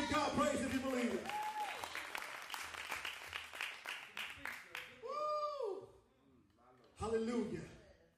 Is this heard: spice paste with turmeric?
no